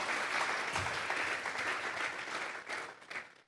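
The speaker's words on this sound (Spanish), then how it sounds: "Vamos a regalarle ofrendas de palmas al Dios de la gloria." A church congregation breaks into steady applause, dense and sustained throughout, thinning slightly toward the end with a few louder individual claps.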